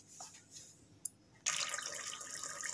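Hot water poured into a pot of mutton biryani: faint clinks and a small tap come first, then a steady, close pouring splash starts abruptly and runs on to the end, with no talking.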